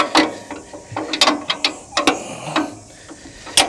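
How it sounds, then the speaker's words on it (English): Ring spanner with a ratchet loosening a blade adjustment bolt on a Turbosawmill, heard up close as quick uneven ratcheting clicks and snaps, about a dozen short bursts over a few seconds with no talking. "we'll loosen this one up. And use the ring spanner."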